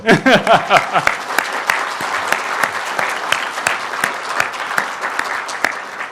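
An audience claps throughout a lecture on American conservative politics and US-Asia relations, a dense burst of applause that starts strong, then settles into a softer, sustained patter of scattered claps.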